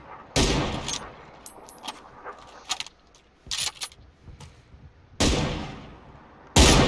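Video game gunfire cracks out in several sharp, loud bursts separated by short pauses, with fainter clicks and rattles filling the gaps between shots.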